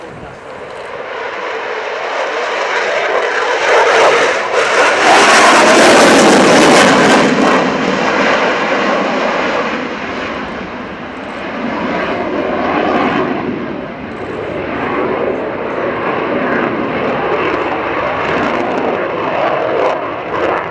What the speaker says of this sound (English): This is the single-seat Rafale C model.